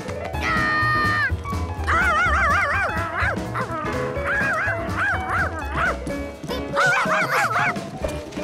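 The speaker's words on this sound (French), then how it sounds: "le plus incontrôlable des chiens" Cartoon dog barking in an animated children's show: repeated yips and barks in short bursts, loud and close, over a busy backdrop of music and effects.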